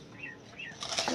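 A pigeon, held after being caught, flaps its wings. A few soft rustles come first, then a louder burst of close flapping.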